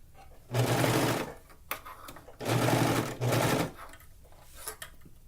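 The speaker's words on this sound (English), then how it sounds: "I'm using my 4-thread overlock stitch to attach this waist elastic right along the edge" An overlocker running a 4-thread overlock stitch to attach waist elastic along a fabric edge, in two loud steady bursts separated by a quiet pause, with faint clicks between.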